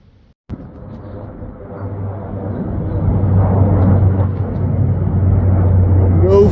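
An airplane passing over a lake, a broad low rumble that swells gradually and holds steady from the open outdoors, with no talking.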